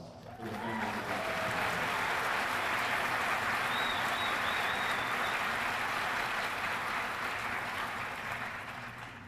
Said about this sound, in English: please join me in a big round of applause for the families of our